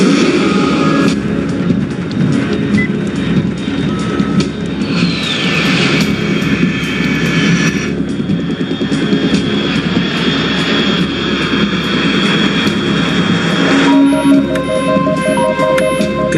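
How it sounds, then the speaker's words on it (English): Jet aircraft engine roaring overhead in a Metal Gear Solid 3 game scene, a loud continuous whooshing drone with a rising whine midway and a shift in tone near the end, no voices. "Unidentified aircraft detected."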